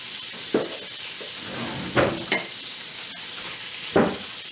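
Shrimp seasoned with salt and Creole spice frying in a pan, a steady close sizzle with a few sharp stirring scrapes and clinks over it.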